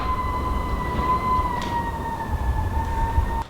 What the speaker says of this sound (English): It's like a hurricane outside.